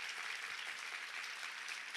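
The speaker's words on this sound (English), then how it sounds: "So let's give them a big round of applause." Conference attendees give a steady round of applause that is fairly faint and distant, continuous clapping with no voices over it.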